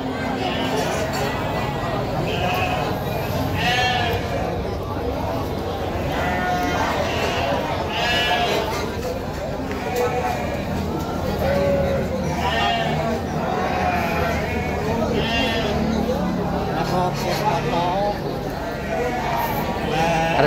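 Young sheep bleat repeatedly at the Tanjungsari livestock market in Sumedang, Indonesia, several animals calling over one another amid steady background chatter and farmyard noise.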